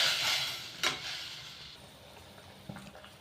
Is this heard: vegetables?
yes